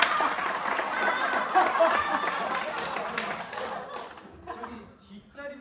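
A theater audience at a student drama workshop performance claps loudly and laughs on cue, a dense burst of clapping and laughter that gradually thins out and fades toward the end.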